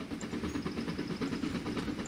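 A train rumbles steadily with a faint rhythmic clatter and a light hiss, a Trainz 2019 simulation of a train pulling away into a loop.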